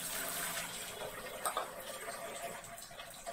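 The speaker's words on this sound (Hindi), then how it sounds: "अब इसमें हम 1 गिलास पानी और डालेंगे" A glass of water is poured into a pot of chicken biryani, a faint, soft splashing trickle heard at low level with a few light clinks.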